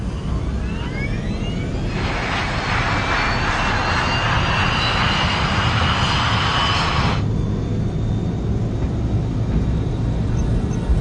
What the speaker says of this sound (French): Korean 8509, autorisation de décollage, piste 2-3.